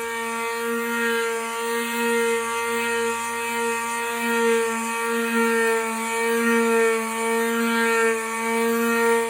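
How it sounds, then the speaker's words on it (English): A power sander runs steadily against an animal hide to strip off membrane, a loud sustained motor whine with strong harmonic tones and slight wavering as pressure shifts, close and uninterrupted with no speech. "that sander did a pretty fine job getting more of that membrane off of there"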